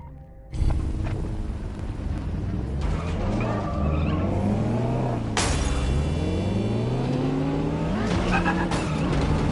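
A car revs and drives hard in the video game Watch Dogs Legion, the engine rising and falling through gear shifts with tyre skids, loud and close and starting abruptly after a moment of quiet.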